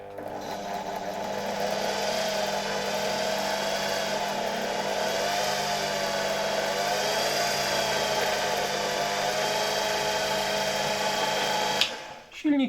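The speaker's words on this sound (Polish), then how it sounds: "Silnik całkiem ładnie rusza." Motor of a 1963 Alfa K2 vacuum cleaner running after power-on, a steady whining hum with a fluctuating high-pitched tone, close and continuous for about twelve seconds before a clunk as it is handled.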